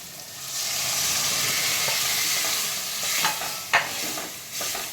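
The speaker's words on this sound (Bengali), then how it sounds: "এবার আমি ডালটা ঢেলে দিচ্ছি" A chickpea and red lentil dal is poured into a hot pan and meets the oil with a steady, close sizzle and hiss, broken by a few short clinks and bursts toward the end.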